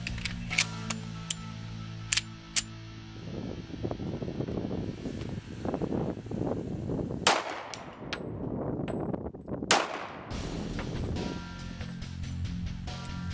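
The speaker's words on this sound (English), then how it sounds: "I'm going to slide a magazine in here of 2, shoot the weapon, and let you see it" A 1911 pistol fires two shots, sharp cracks a few seconds apart, over steady wind and outdoor background noise.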